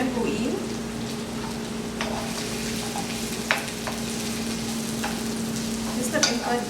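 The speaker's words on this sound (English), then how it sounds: "I'm going to add in my vegetables and let that cook down for just a bit." Vegetables stir-frying in a hot pan for vegetable lo mein, with cabbage among them, give a steady loud sizzle and crackle, with occasional scrapes and clacks of a utensil stirring; no talk.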